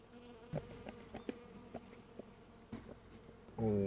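Bees buzzing steadily nearby with a low droning hum, punctuated by small knocks and handling sounds, ending in a louder burst of noise.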